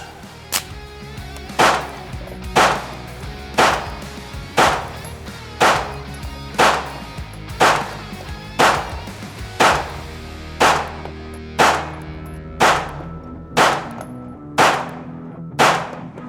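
Pistol firing 124 grain flat point 9mm-style ammunition: about fifteen sharp, loud shots in a steady rhythm roughly one per second, each with a short ringing tail, no talking.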